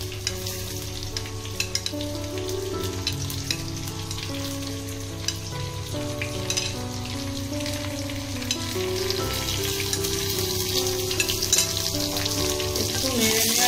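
Papaya and cauliflower sizzle steadily in hot oil in a pan for a home-cooked fish shukto, a continuous close frying hiss with gentle stirring under steady background music, no talking.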